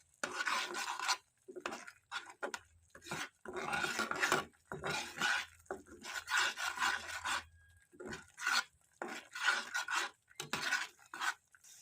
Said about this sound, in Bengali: একটু নেড়ে ছেড়ে নেবো মশলাটা